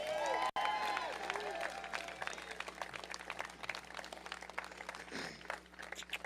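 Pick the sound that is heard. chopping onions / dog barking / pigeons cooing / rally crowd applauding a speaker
rally crowd applauding a speaker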